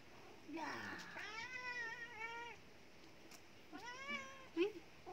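A pet cat meowing at home, two drawn-out, wavering meows a couple of seconds apart, close and clear against a quiet room.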